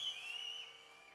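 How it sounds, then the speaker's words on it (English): A brief, faint whistled tone glides slightly downward, heard alone and quiet. "The whistle one more time."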